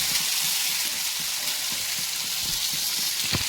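Fish shallow-frying in hot oil, a steady hiss of sizzling with soft popping crackles throughout, close and continuous with no voices.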